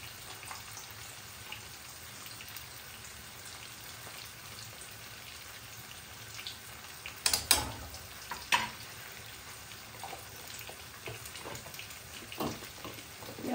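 Beef and garlic sizzle softly in a pan as they are stirred, a quiet steady fry with a few louder clatters and scrapes of the utensil midway.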